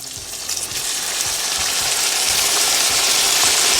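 Tomatoes hitting hot oil with onions for a Lahori charga biryani masala, a loud, close, continuous sizzle that swells and holds steady, with no talk.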